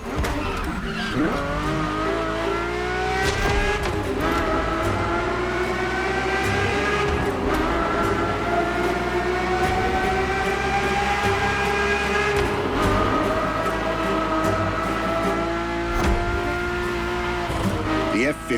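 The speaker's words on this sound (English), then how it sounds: "The F50's core is a normally aspirated V12 that came straight from a Formula One." A Ferrari F50 with a naturally aspirated V12 roars continuously while driven in the racing game The Crew Motorfest. The loud engine note climbs and falls through gear changes, with some tire squeal mixed in.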